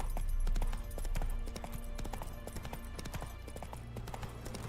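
Roach, a horse in The Witcher 3 video game, clip-clops along with a steady run of hoofbeats under a dense, continuous game soundscape at low volume.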